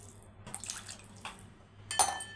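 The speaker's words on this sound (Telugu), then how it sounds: "ఫ్రై అయినాక కొద్దిగా వాటర్ వేస్తాం." Water poured into a pan of frying sweet potato curry, with soft splashing bursts and a louder sizzling pour near the end, close by.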